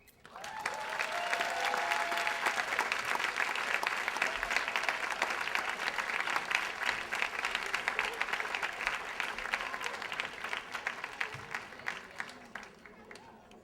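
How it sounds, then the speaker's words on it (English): A large audience applauds steadily for over ten seconds, a dense wash of clapping that swells quickly and fades slowly at the end. "another round of applause for Alethea Black"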